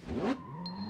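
Motorcycle engine in the video game Sleeping Dogs revs up in one quick, rising burst, then settles into a steady idle hum with a faint high whine above it, heard close.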